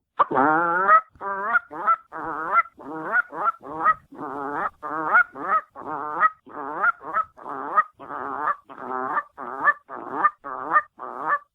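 A person mimics Canada goose honks by voice, a rapid series of about two dozen loud, close, evenly spaced nasal calls with no talking.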